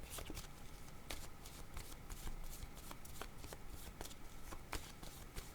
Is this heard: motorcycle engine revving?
no